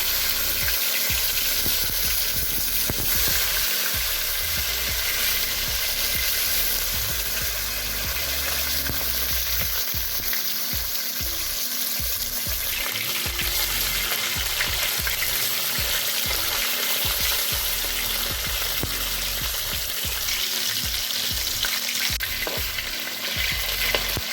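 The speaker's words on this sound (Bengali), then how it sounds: "এবার আমি কই মাছগুলো হালকা করে ভেজে দিচ্ছি" Koi fish frying in hot oil in a pan, giving a loud, dense, continuous sizzle and crackle that holds steady for the whole stretch, close up, with nobody talking.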